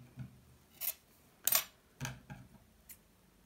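Scissors snip through knitting yarn in a handful of sharp, close clicks and crisp cuts spaced irregularly over a few seconds, quiet otherwise and with no talking.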